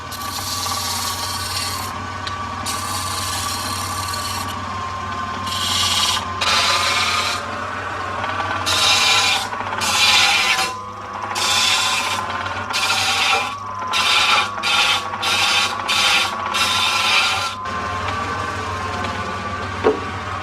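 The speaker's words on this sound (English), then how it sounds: "Now it's back to the lathe." Wood rasps and scrapes against a cutting tool on a lathe in repeated bursts over a steady machine hum, close and fairly loud, as a tripod table leg is turned.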